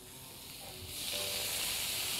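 Vinegar poured into a pan of frying liver with peppers and garlic, a soft sizzle that jumps to a louder, steady hiss about a second in and holds, fairly quiet and close.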